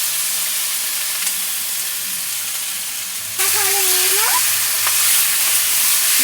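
Chicken pieces are dropped into hot oil with garlic and ginger paste for a chicken curry, a steady hiss that jumps into a louder, fuller sizzle midway, with a brief high squeal.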